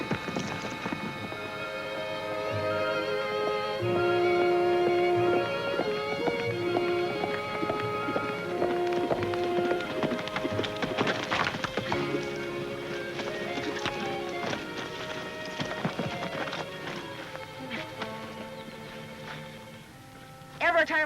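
Horses galloping for an army cavalry ride in an old western, with steady clip-clop hoofbeats and occasional neighing heard under a loud orchestral music score.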